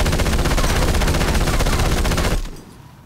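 Rapid automatic gunfire from a short-range weapon in the video game Battlefield Hardline rattles continuously at close range, loud and unbroken, then cuts off abruptly near the end.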